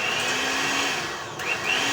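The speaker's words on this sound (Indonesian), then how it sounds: "lalu nyalakan mixernya" An electric stand mixer whirs steadily as it kneads dough for soft burger buns, a constant high motor whine running throughout with a brief dip in pitch partway before picking back up.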